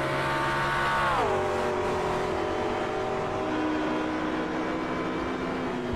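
A race car in a racing video game sweeps past, its steady high engine whine dropping sharply in pitch as it goes by, then settling into a lower, continuous drone as it pulls away.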